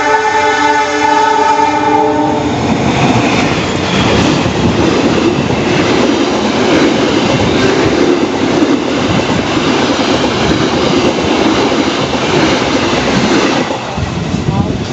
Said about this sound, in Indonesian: Agak ngebut nih keretanya nih.